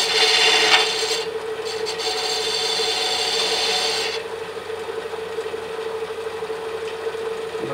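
A bedan on a lathe cuts a chamfer into spinning wood for a small scoop, a loud close rasping scrape over the steady machine hum that drops away after about four seconds, leaving only the motor's whir.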